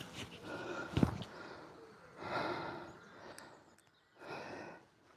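Puffing and panting breath blown close into a microphone, coming in three separate bursts of rough, airy breathing with quieter gaps between them.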